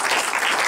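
Dense, steady applause fills a cinema hall after a live film-with-music concert, a continuous wash of clapping from a full room with no voices over it.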